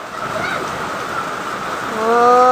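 Steady rain falls in a broad hiss outdoors, with a rising tone swelling up near the end.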